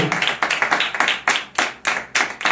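An audience claps together at a Telugu Bible study gathering, a brisk burst of hand claps that comes and goes in uneven pulses, close and fairly loud, with no talk over it.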